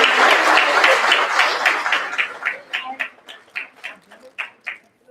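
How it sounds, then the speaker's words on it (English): Audience applause at a special school board meeting, a loud burst of many hands that thins out into a few scattered, separate claps before fading. "one more round of applause"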